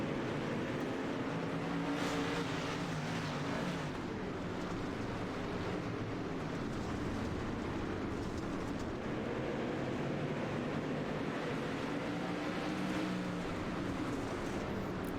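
Dirt Car Street Stock race cars in a virtual racing game at Lernerville keep up a continuous dense engine drone, with several cars blending into a steady, moderately loud roar that rises and falls slightly and has no talk.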